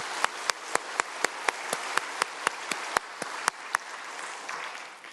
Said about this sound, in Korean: 하나님께 감사의 박수 한번 올려드리면 좋겠습니다.